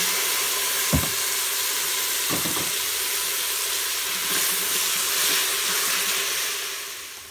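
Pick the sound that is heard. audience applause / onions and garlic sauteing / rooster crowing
onions and garlic sauteing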